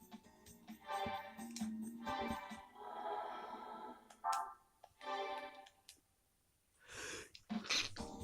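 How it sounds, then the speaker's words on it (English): A person sneezes while recording gameplay of Gran Turismo 3, with a few sharp sneezes and snorting breaths broken by short pauses, close and fairly loud. "I always have to sneeze when I'm recording"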